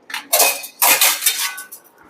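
A plain steel plate clatters as it is taken out in a home kitchen, with two bright metallic clanks followed by lighter scraping and clinking of dishes and cutlery, close by with no talking.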